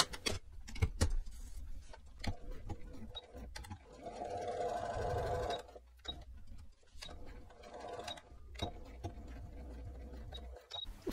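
A sewing machine stitches the seam of a fabric scrunchie, running in a steady close whir and clatter with short pauses and a few ticking clicks between bursts.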